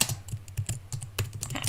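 Quick, close clicking of keys on a computer keyboard as a template name is typed, a rapid irregular run of light taps.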